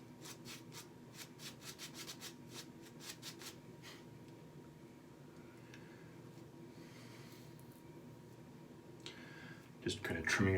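A goatee beard gets trimmed up and its lines tidied, giving a quick run of soft, rhythmic scraping strokes close by, then quieter rustling and a louder handling clatter at the end.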